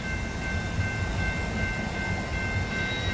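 Southbound freight train rolling past nearby, a loud continuous rumble and rail clatter with a faint high squeal, steady throughout with no voices.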